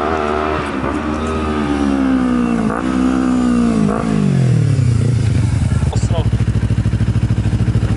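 Kawasaki Ninja 250 with a stainless full exhaust: the engine revs and slides down in pitch, then settles into a rapid, pulsing idle-like throb, loud and close throughout.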